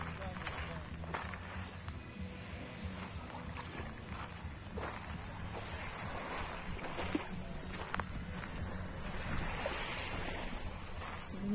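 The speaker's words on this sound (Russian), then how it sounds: "Море в Геленджике." Sea waves wash onto the central beach at Gelendzhik in January in a steady, soft surf with wind noise on the microphone, while people talk in the background.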